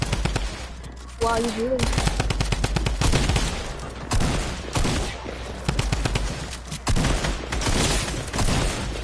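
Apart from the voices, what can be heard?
gunfire in a video game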